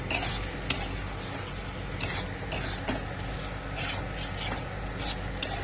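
Potatoes being stirred and sautéed in a pan for a lentil-wadi curry, with a steady low sizzle under repeated scraping and clinking of a spoon against the pan, fairly quiet and close.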